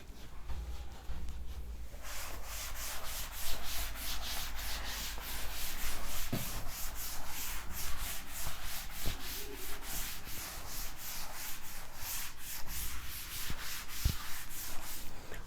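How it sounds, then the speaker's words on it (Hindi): A classroom board being wiped clean with a duster, a steady stream of close, scratchy rubbing strokes in quick rhythm that starts after a brief quiet moment and carries on without talk. "अभी मैं इसको रब करता हूँ"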